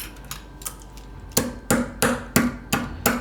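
Someone crushing sugar by hand. A few faint taps open a quiet stretch, then six firm, regular pounding blows land close by.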